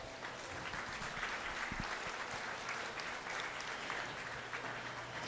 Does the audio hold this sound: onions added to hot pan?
no